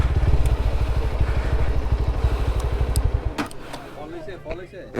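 Motorbike on a hill climb in Sukhia Valley, Lama, Alikadam, its engine pulsing loud and near for a few seconds before cutting off, followed by rattling and people talking.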